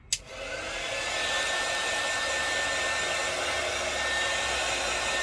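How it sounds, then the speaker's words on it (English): A hair dryer whirs continuously at close range after a brief click at the start, a loud steady blowing hum with a faint whine. "Actually, we could use the hairdryer too on him."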